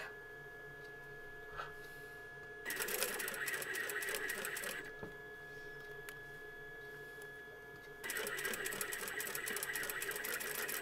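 A sewing machine stitches patchwork fabric in two fast bursts of dense, rapid mechanical chatter, separated by a quieter stretch with faint handling noises and a soft background hum.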